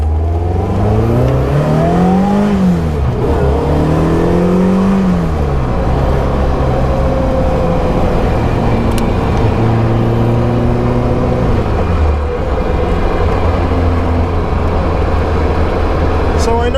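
A Caterham 7 360R's 2-litre, 180 bhp engine revs and accelerates through the gears, pitch rising and dropping with each shift, loud and steady from inside the cabin.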